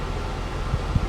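Electric fan running in a garage workshop, a steady whooshing airflow hum with faint rustling, continuous and moderately quiet.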